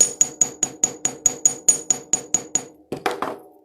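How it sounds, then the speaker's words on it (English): A ball peen hammer taps a small metal piece sticking out of a pinecone pendant, thirteen crisp, evenly spaced ringing strikes up close, then a few duller, quicker knocks at the end. "I'm going to just use the ball peen part of the hammer and just kind of"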